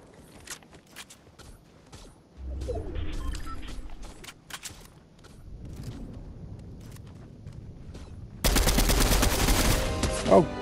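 Gunfire from scoped weapons in the video game Fortnite at Condo Canyon, with sharp scattered shots and bursts, rising to a loud sustained barrage near the end.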